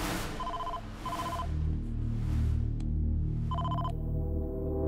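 A telephone rings in a Hindi-dubbed action film scene, short repeated electronic ring bursts over a dense, steady background score.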